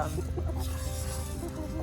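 Barred Rock chickens clucking close by in a short burst of low, repeated clucks over a steady farmyard background.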